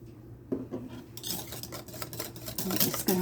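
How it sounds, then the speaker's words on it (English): A utensil stirs thick coconut custard pie batter in a bowl, close, soft scraping and rubbing strokes with a few light clinks against the dish. "And I'm just going to stir that up in there."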